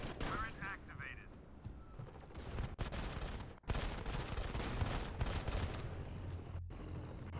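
An activated turret fires in Modern Combat 5, a continuous loud burst of automatic gunfire with a couple of brief gaps, and a voice is heard partway through.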